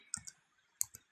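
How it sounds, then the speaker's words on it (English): Keys tapped on a computer keyboard while entering a web address, a few short clicks in two separate bursts, close and fairly quiet, with no talking. "I'm typing your web address in right now, not your email address, but your web address for Funds for Writers"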